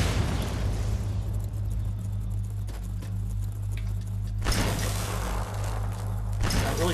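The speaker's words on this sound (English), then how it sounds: "having fun throwing grenades at these" Grenade blasts in Fallout 3, a couple of broadband bursts standing out over steady low game rumble, the second one stronger and followed by a crackling tail.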